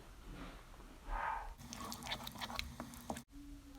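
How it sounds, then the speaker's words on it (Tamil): Chili powder and pepper powder being stirred with water into a paste for a mixed vegetable kulambu, giving soft, close, wet squishing and mixing sounds with a few light clinks, no speech. "இப்போ கொஞ்சம் கொஞ்சமாக தண்ணி ஊற்றி பேஸ்ட்டு மாதிரி நம்ம கலந்து எடுத்துக்கலாம்"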